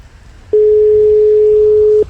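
A single steady electronic tone of a phone ringing in an indie horror video game sounds loud and unbroken for about a second and a half, starting and stopping abruptly.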